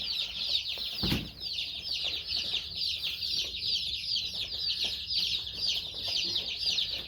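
A crowd of about a hundred baby chicks chirps continuously in high-pitched overlapping peeps, close and steady, with a brief thump near the start.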